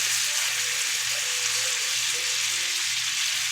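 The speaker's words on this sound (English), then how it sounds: "So we're going to let those sear on both sides." Beef short ribs crowded into a pan sear with a steady, loud, hissing sizzle that holds constant and unbroken throughout.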